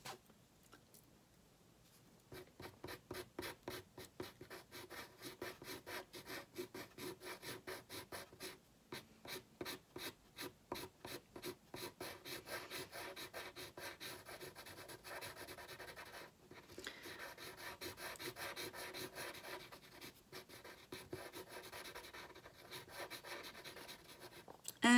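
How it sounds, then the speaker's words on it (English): A pencil shades softly on paper with a light hand, making a continuous quiet scratchy rubbing in quick back-and-forth strokes, close and faint, with brief pauses and no talking. "just softly brushing with my pencil using a light hand"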